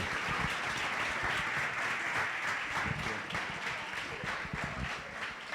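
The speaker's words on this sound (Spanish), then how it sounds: "vamos a darle un fuerte aplauso de acogida" A hall audience gives a strong welcoming round of applause as a guest speaker is introduced for a talk and discussion, a dense, even roar of many hands clapping throughout.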